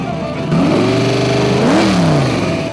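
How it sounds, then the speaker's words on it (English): A T-bucket hot rod's V8 with a tunnel ram and dual quads revs up loud and close, its pitch climbing in a rising sweep, peaking, then falling back with a deep, throaty burble. "V8 tunnel ram, dual quads, and a T-bucket."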